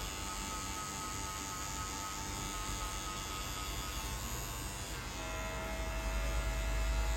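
Electric hair clippers buzz steadily and close while cutting a sharp low fade, a continuous hum that shifts slightly in pitch partway through as the blade meets the hair.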